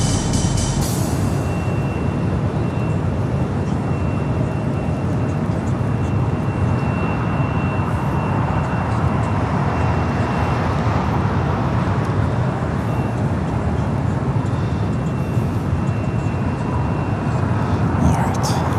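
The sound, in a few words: Air Canada 782 jet taking off from LAX runway 25 right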